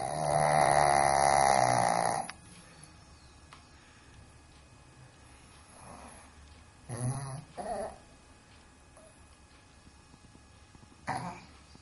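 A dog snoring in a quiet room, a loud rasping snore at the start followed by softer snorts and throat-clearing grunts, close and alone.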